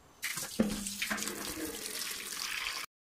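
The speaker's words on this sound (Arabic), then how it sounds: "في مي سخنه ومي بارده والغسيل هون بصير" Water gushing from a tap used for hand-washing clothes, a steady close splashing stream that starts abruptly after a brief knock and stops suddenly.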